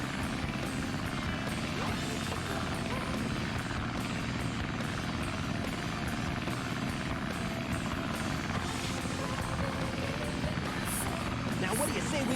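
A plane flying during the Sky Chase stage of the Sonic Adventure game, a constant buzzing propeller drone filling the scene, with talking over it.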